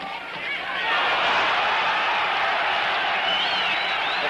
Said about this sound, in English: The crowd will yell every time Floyd even seems to land.